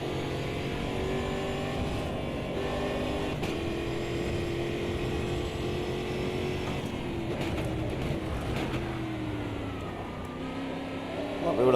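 A race car engine from the sim racing game Automobilista 2 drones continuously and loudly with layered harmonic whine, shifting pitch near the end as revs change, while a voice talks over it.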